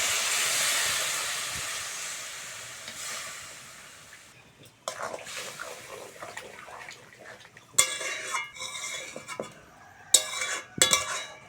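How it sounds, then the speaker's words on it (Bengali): Water is poured into a pan of spices and chilli powder for an old-style Bengali egg and aubergine curry, a loud hissing sizzle at first that fades, followed by intermittent stirring and utensil clatter against the pan. "এবার দিয়ে দেবো জল।"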